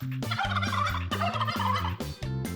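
A turkey gobbles loudly and repeatedly in rapid, warbling bursts close by, with no talking, in an animated cartoon.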